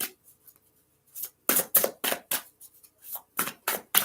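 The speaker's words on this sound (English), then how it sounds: "I'm going to shuffle it up pretty good." Someone shuffles a deck of tarot cards up close, a run of crisp riffling bursts in uneven rhythm with brief pauses between them.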